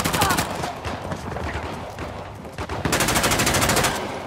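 Rapid video game gunfire in Uncharted: The Lost Legacy, loud dense bursts of automatic shots rattling throughout, with a sharper sustained volley toward the end and no talk over it.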